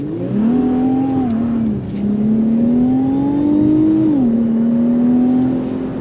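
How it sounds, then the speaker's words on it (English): A 2021 Infiniti Q50 Red Sport 400's exhaust roars close by as it accelerates, pitch climbing through gears with a brief dip in between, loud and sustained. "Nice sound from the exhaust system."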